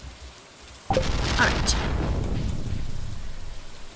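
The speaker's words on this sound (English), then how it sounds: "since it is a rainy day" Rain pours steadily and a thunderclap breaks in on a rainy day in the farming game Stardew Valley, a sudden loud rumble settling into a constant hiss of rainfall, with a brief spoken word over it.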